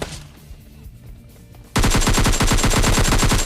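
Shotgun and automatic gunfire from a BGMI battle royale match: after a quiet stretch with faint background, a loud, rapid burst of shots erupts and keeps firing in a dense, steady rhythm to the end.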